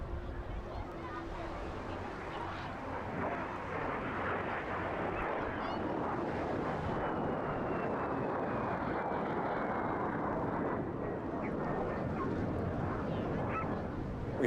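A MiG-17 jet fighter passes at the Eastbourne airshow with a broad rushing jet roar that builds and holds, a faint descending whine partway through, and a voice talking underneath.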